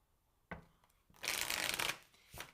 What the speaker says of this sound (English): It's not my favorite deck for shuffling.